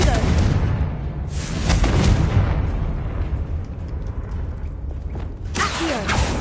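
A Confringo fire spell blasting in Hogwarts Legacy, with loud rumbling booms and crackling bursts that fade, then a fresh whooshing blast near the end, heavy and close.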